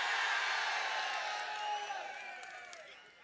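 A dense crowd at a political election rally roars and cheers loudly, a wide, sustained wash of voices with whoops that gradually fades toward the end.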